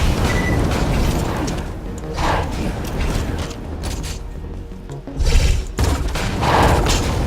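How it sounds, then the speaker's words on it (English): Delayed explosions from the Hyperion Needler in Borderlands 2, with several booming bursts breaking through a dense, clattering mechanical din of gunfire and game effects. "It creates delayed explosion."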